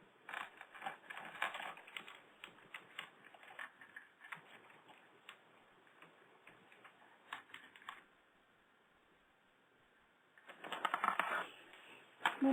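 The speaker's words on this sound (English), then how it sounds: "We're just typing out a website right now." Someone types on a computer keyboard in quick, irregular bursts of soft clicking with short pauses between them, close and faint.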